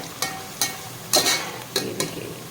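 Kofta ingredients frying in hot oil, a low steady sizzle punctuated by several sharp stirring scrapes and clinks at irregular intervals.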